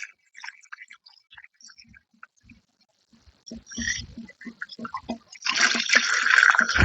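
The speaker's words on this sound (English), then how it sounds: "I have a third of a cup of bleach, and I just pour that in using my funnel" Bleach is poured from a jug through a funnel into the freshwater system of a vintage cruiser boat, first with sparse small clicks and handling taps, then a steady close trickle of liquid running in near the end.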